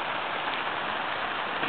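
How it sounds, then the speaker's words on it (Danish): Pouring rain at a campsite just outside Paris, a steady, dense hiss of drops striking surfaces, continuous and even throughout with no voices. "Styrtende regnvejr."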